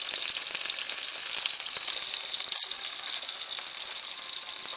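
A thin piece of cod frying in a pan until crisp and browned, giving a dense, even sizzle that crackles continuously without a break, close by and with no talking.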